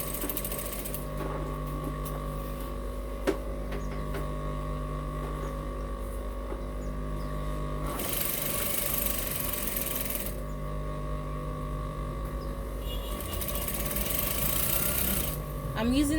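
A sewing machine runs steadily, sewing elastic onto fabric to ruche a skirt. Its droning motor and fast needle rhythm pause and restart, and a person talks over it.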